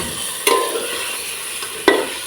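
Marinated chicken sukka frying in oil, a close steady sizzle with two distinct scraping clinks of a spoon stirring against the pan.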